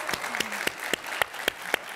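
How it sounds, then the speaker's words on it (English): Brief, loose clapping from a keynote audience at an education conference, with a handful of separate claps in a fairly regular rhythm, close and moderately loud. "Can we give him a round of applause?"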